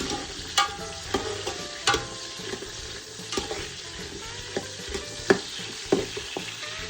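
Drumsticks (the vegetable) sizzle and fry in a pan while being tossed, a steady bright hiss broken by repeated clacking knocks of the pan and spatula, close and continuous with no talk.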